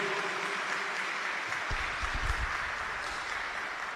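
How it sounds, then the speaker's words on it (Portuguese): An audience at a Catholic religious formation gathering breaks into applause, a faint, steady patter of many hands clapping from a distance, with no speech over it. "Uma salva de palmas para Jesus"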